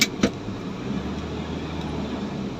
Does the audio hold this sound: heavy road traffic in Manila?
yes